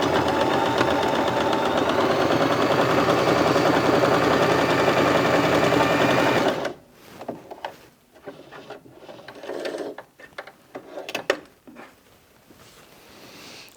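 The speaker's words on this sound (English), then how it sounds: "So let's double that over and go through 4 layers now and see how it copes with that." A Bernette B35 sewing machine stitches through four layers of fabric, its steady rapid whirring and needle clatter running loud for about six seconds, then stopping and giving way to soft handling noises and faint clicks.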